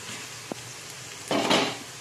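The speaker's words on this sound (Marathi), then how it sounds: "आता हे छान आपल्याला मसाले भाजून घ्यायचे थोडेसे।" Spices are dry-roasted in a pan for a spicy corn curry while being stirred, giving a brief clink of the spoon and then a short scraping, sizzling rustle, with no talking.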